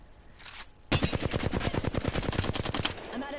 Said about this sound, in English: sometimes this hip fire is amazing